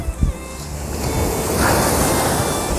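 Sea surf washing onto the shore at Mullivaikkal beach, a steady broad wash of waves with wind buffeting the microphone, a brief thump near the start, no voices.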